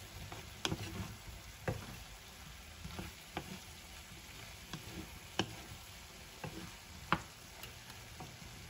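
Pork and chayote being stirred in a pan: a faint, steady sizzle of frying runs throughout, broken by light, irregular ticks and clinks of a utensil against the pan, roughly once or twice a second.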